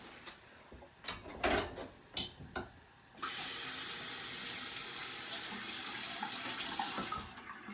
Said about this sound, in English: You're going to run it under your tap water.